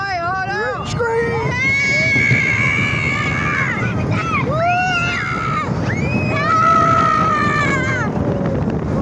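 Riders on a rollercoaster screaming together over rushing wind noise, several high wailing voices rising and falling in overlapping bursts throughout.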